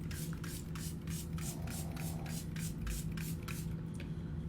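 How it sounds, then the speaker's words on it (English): An Anua PDRN face mist sprays in a quick run of about a dozen short, regular hissing bursts, close and fairly loud over a steady low hum. "one of my favorite things to use is the Anua PDRN spray"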